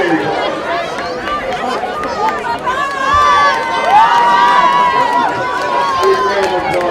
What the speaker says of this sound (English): Big round of applause for Carly.